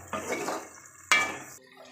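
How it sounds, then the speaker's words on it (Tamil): Utensil stirring egg gravy with tomato in a pot, two short bursts of clinking and scraping against the pot with a wet, sloshing texture, close and moderately loud with a quiet pause between. "இப்போ தக்காளியோட நம்ம வந்து மிக்ஸ் பண்ணி விட்டுக்கலாம்"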